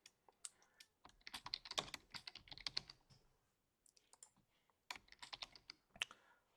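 Recipe text being typed on a computer keyboard: quiet, close clusters of quick key clicks in irregular bursts, with a brief pause midway before another flurry of keystrokes.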